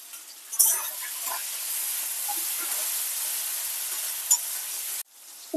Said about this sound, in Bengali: উপর টমেটো আর কাঁচা লঙ্কাটা দিয়ে দেবো।